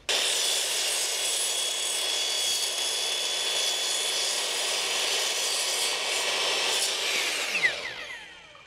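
Power saw cutting profiles to length for a wooden terrace frame on a bus roof, a loud steady high whine running continuously for about seven seconds before winding down at the end.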